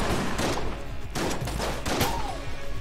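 A sawed-off shotgun is fired in the video game Enter the Gungeon, giving a rapid series of blasts and bursts in dense, rolling bursts of gunfire with no pauses.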